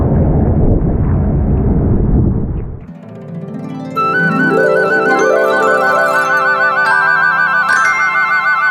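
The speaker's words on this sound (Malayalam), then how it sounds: "കാറ്റടിക്കുന്നേ കാറ്റ്" Strong wind gusts roar loudly at Tiger Falls waterfall, a dense rushing blast lasting about three seconds before music takes over.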